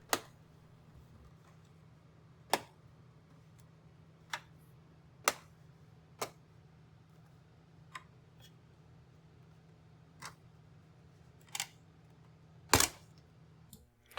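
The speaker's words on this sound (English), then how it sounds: "I first remove the border by gently popping off the snaps with my finger." Sharp plastic snaps popping off the border of an RV shelf light, a string of about ten separate clicks spaced irregularly over a faint steady hum, with one louder crack near the end.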